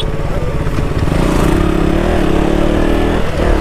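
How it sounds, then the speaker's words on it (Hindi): A KTM Duke 200 motorcycle engine drones loud and close while riding, a steady throaty hum with a slight rise in pitch near the end, no talking. "ड्यूक 200 का जो पिकअप है ना, क्विकली पिकअप ले लेता है"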